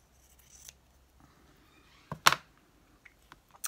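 Scissors cutting scrap craft material: one quick sharp snip midway, then a few faint light clicks and shuffles of paper around it, close and quiet.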